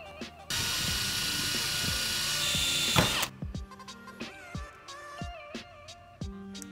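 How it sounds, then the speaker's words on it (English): A power drill runs in one sustained whine while a hole is made in a metal bar for M5 grub screws on a DIY LED corner light, then stops and gives way to scattered clicks and knocks of handling. "Now we've drilled and tapped this, we've put in our M5 grub screws."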